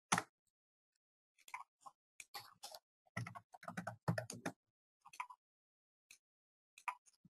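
Computer keyboard typing a short command in 3D modeling software, sparse quiet key clicks in small bursts separated by silent pauses, close and crisp.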